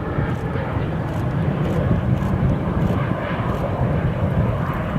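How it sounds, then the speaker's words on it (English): A FedEx Boeing 767 freighter jet at Cleveland Hopkins airport produces a loud, steady engine roar and rumble outdoors, with no talking. "FedEx 356 heavy inbound from Memphis. The 767 freighter."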